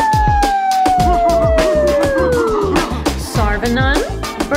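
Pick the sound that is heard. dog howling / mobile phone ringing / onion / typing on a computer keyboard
dog howling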